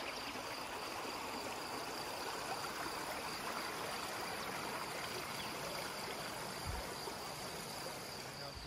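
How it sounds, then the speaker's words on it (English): A creek on the Appalachian Trail between Hightower Gap and Gooch Gap flows with a steady, soft, even rushing hiss, heard from close by without voices. "It's a cool looking creek."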